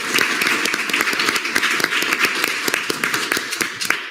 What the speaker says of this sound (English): Please give an applause for our guest.